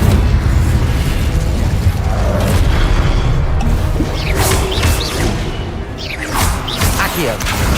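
An Incendio fire spell cast in Hogwarts Legacy bursts out as a loud, booming blast with crackling flame, over a continuous bed of dense game sound effects and music.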